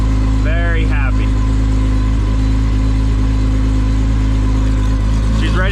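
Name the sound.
Chevrolet Camaro engine idling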